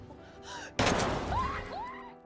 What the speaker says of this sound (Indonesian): tiba-tiba istri Gregory datang dan kemudian menembak Lori